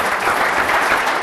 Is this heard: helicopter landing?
no